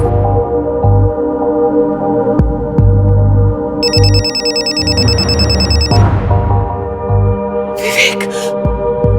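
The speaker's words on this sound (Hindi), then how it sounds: "सर कंचन जी के फोन पे विवेक का नंबर फ्लैश हो रहा है।" A mobile phone rings with an incoming call, a repeating electronic ringtone that sits loud and close beneath a dramatic music score with sharp tonal stings, no speech over it.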